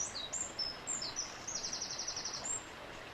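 Small birds chirp and trill in a quiet Northern California outdoor setting by a stream, a series of high thin calls and a rapid repeated trill, faint over a soft steady water hiss.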